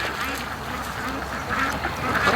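Soft, breathy quacking from Muscovy ducks at the edge of a lake, a few calls close by over steady ambient noise, no voices.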